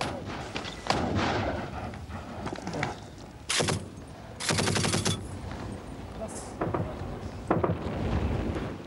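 Gunfire and shelling during the 1984 siege of a government fort by Afghan Mujahideen fighting the Soviets: sharp bursts of shots and heavy blasts over a rough, windy outdoor background, with voices heard between bursts.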